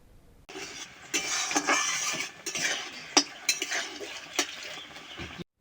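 Metal spoon scraping and clinking against a pan while raw mango chutney is stirred with a fried spice mix, a busy run of close scrapes and taps lasting several seconds before stopping abruptly.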